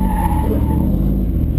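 An autocross car brakes hard into a turn, a loud close rumble of engine and road noise with a faint tire squeal, lasting steadily under no talk.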